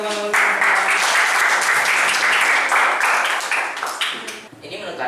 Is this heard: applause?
yes